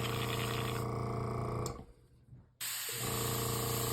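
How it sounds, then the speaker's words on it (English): An airbrush being back flushed with water gives a steady loud spraying hiss that drops away for about a second into quieter gurgling, then bursts back on abruptly at full strength. "Back flush it again."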